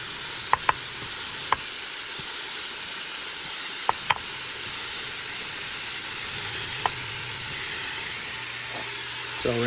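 Carrots, celery and fennel sizzle steadily in olive oil in a pan, a constant close hiss broken by a few light clicks of a utensil stirring.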